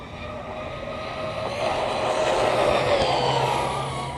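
An Arrma Big Rock 223s RC truck runs at full speed on an open road, a steady loud motor whine and rolling tire roar that swells in the middle and holds without pause.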